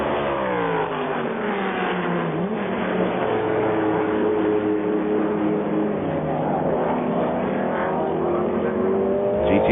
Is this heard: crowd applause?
no